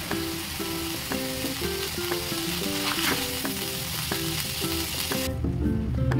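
Ginger and masala fry in a pan with a continuous close sizzle, while a spoon or spatula scrapes and clinks against the pan in a fairly regular rhythm.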